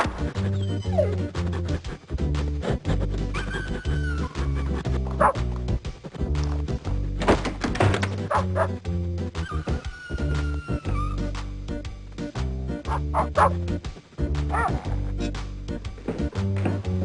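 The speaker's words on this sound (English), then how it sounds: "make those stupid yappy puppies strut their stuff" Yappy cartoon puppies bark and yip repeatedly in the DOS video game Normality, over a looping game music track with occasional clattering effects.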